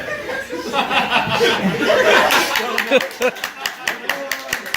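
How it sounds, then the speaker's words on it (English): An audience at a college improv comedy show claps and laughs, a swell of chuckles giving way to scattered individual hand claps that thin out toward the end, with voices mixed in. "Oh wow, you guys clap?"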